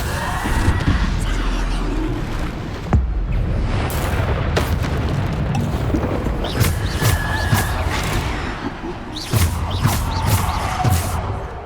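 In Hogwarts Legacy, Bombarda blasting spells go off in a string of deep booming explosions with rumbling bursts and crackles, loud and close, while a voice talks over the action.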